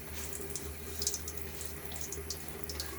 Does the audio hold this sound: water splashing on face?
yes